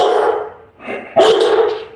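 A dog barks loudly and close: a long rough bark, a short pause, then a sharp louder bark trailing off, with no talk over it.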